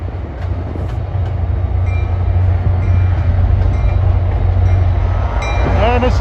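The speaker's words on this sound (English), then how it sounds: "this is train 49 departing for Middletown, New York" NJ Transit train 49 departing Hoboken for Middletown, New York, with a loud, steady low diesel engine drone close by, light clanks, and a rising wheel squeal near the end.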